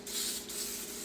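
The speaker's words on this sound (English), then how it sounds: "Now I'm just using some spray-on cooking spray here." Cooking spray hisses steadily from an aerosol can onto a pan while potato wedges are prepared, a close, continuous spray with a brief dip midway, alone without talk.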